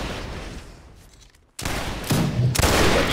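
Musket volleys from a line of soldiers in the video game Mount & Blade: Napoleonic Wars, with ragged, crackling gunfire that fades into a brief lull and then erupts again in loud, close bursts.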